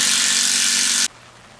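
A tool whirs with a dense ratcheting buzz while removing the jet pump and shaft from a Sea-Doo GTX during a 720 to 657 engine swap, loud for about a second, then it stops abruptly.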